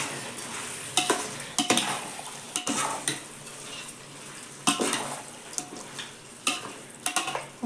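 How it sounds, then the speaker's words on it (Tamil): Chicken with curd cooks in oil in a pot for biryani. A soft sizzle runs under repeated metal spoon scrapes and clanks against the vessel, arriving in irregular bursts every second or so. "5 நிமிஷம் சிக்கன் அப்படியே எண்ணெயில் வெந்துட்டோம்"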